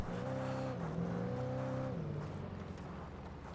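A car driven in the video game Alan Wake Remastered gives off a steady, loud engine drone with shifting tonal pitch, easing slightly in the final second and heard alone, with no talk over it.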